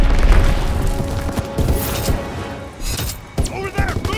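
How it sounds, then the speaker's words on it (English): A bomb blast in Call of Duty: WWII team deathmatch on Sainte-Marie-du-Mont, opening with a heavy close boom that decays into rumble and scattered mechanical noise while game voice callouts speak over it. "Enemy bomb incoming."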